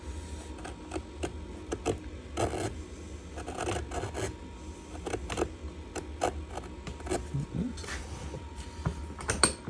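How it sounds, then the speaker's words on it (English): A sharp chisel cutting a purfling channel into a violin plate in a workshop gives a close series of short, irregular scraping and rasping strokes, steady and fairly quiet. "Nice sharp chisel, and then away we go."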